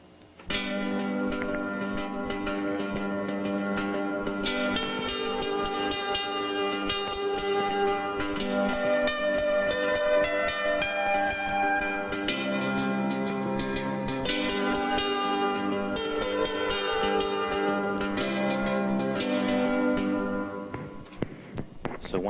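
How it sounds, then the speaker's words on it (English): Steel guitar melody played with repeated notes and noodling trimmed away, ringing harmonic tones sustained and dense over about twenty seconds, steady and loud with no pauses. "I'm going to play the melody of steel guitars, eliminating repeated notes, repeated melodic fragments"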